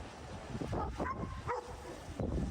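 A dog in the Zenless Zone Zero game, in the form of a dog mermaid, makes a few short yips and whimpering barks that overlap a busy game soundtrack.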